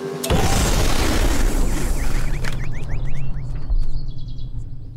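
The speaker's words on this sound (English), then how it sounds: "Our pumpkin exploded. This wasn't a real pumpkin. It was a balloon." A rubber balloon made to look like a pumpkin bursts as its top is cut off. It gives one sudden, loud, close boom that fades into a lingering wash, followed by quick cartoon bird chirps.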